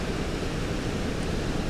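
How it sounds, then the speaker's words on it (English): Waterfalls spilling down a bracken-covered hillside at Rhiwargor, Wales, giving a constant broadband rush of falling water that stays even and close throughout. "I've got the waterfalls sort of snaking down the hill in front of me from the top all the way down to this waterfall in front."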